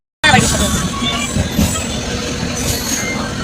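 A passenger train rolls along with a steady, close rumble and rattle of carriages, while people talk over the constant noise.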